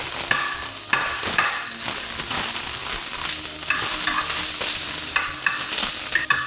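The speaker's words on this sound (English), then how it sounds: "I've got some sliced onions that I'm going to add, and I'm going to saute that down." Sliced onions sautéing in olive oil in a hot tagine, an even close sizzle broken by repeated scraping and clinking stirs, with no speech.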